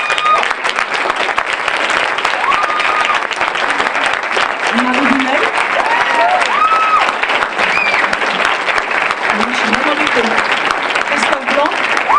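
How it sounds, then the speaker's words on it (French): A festival audience applauds jury members as they are introduced at a short-film festival awards ceremony, continuous clapping while an announcer's voice calls out names over it. "je vous demande d'accueillir et d'applaudir Chantal Lobby"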